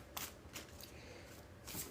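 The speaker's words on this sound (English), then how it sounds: "Alrighty, 3 more shuffles" Tarot cards being shuffled by hand in a few quick riffling bursts, close and crisp, with a soft pause between each shuffle and no talking.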